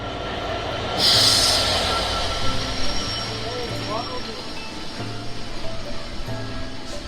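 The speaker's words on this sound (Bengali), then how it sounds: "এই যে চুয়াডাঙ্গা স্টেশনে জোরে সোরে প্রবেশ করছে আন্তনগর রূপসা এক্সপ্রেস ট্রেনের লোকোমোটিভ ছেষট্টি বত্রিশ নিয়ে" Rupsha Express intercity train hauled by locomotive 6632 pulls into Chuadanga station in Bangladesh, a loud rumbling arrival with rhythmic wheel clatter, a brief piercing horn blast near the start and steady rolling noise throughout.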